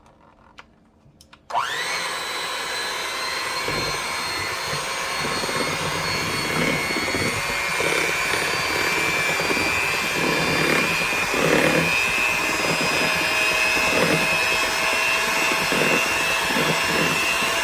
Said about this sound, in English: now I'll be starting the mixer, and I'll be putting it on slow, which will be 1 on this mixer.